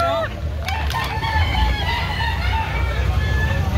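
Chickens and a rooster held in woven bags at a market in Carbon, Cebu cluck and crow near and loud over a constant background of crowd babble.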